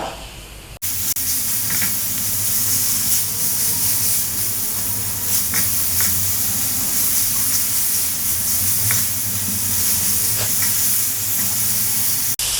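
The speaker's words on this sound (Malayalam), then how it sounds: "ഇതിലോട്ട് നമുക്ക് തക്കാളി ഇട്ട് കൊടുക്കാം" Tomatoes drop into a pan already sizzling with flour, giving a loud, steady frying hiss with stirring scrapes throughout while chicken pasta is being made.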